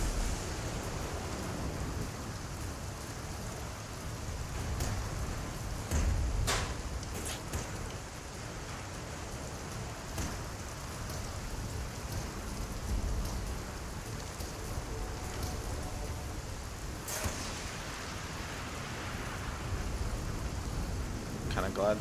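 Steady storm rain and rolling thunder in the video game Worlds Adrift, a dense continuous wash with a few sharper crackling bursts, heard under occasional talking voices.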